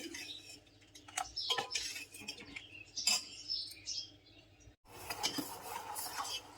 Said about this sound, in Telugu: కప్పున్నర బెల్లం, అరకప్పు వాటర్ వేసుకుని స్టవ్ పై పెట్టుకొని కలుపుకుంటూ బెల్లం కరగనివ్వాలి.